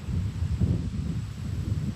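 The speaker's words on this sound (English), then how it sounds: "Wind's really blowing today." Steady wind roars and buffets across the microphone on a bicycle trail ride, a low rumbling gust that swells and fades without pause.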